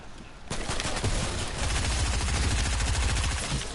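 Rapid SMG gunfire from Fortnite rattles in dense, continuous automatic bursts after a brief quieter opening, loud and close throughout.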